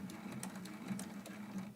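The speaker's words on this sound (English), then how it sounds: "I'll just do a couple little back stitches" A sewing machine makes a couple of short back stitches on a quilt block, a close, low, rapidly pulsing motor hum with quick repeated needle taps, with no voices.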